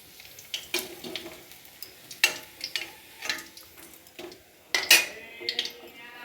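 Fried cauliflower pakoras lifted out of a pan of oil: sharp metal clinks and scrapes of a utensil against the pan in irregular bursts over a faint sizzle.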